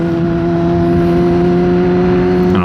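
A 2018 Kawasaki ZX10-R sportbike runs at high speed with a loud, steady droning engine tone and heavy wind roar throughout, the pitch holding nearly constant, with no talking.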